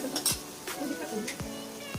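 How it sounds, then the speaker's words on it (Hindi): Tempering for pigeon pea dal sizzles softly in a hot pan, with a few brief metallic clinks of a spoon or utensil over the frying hiss. "तो ये लग गया मेरे दाल में तड़का"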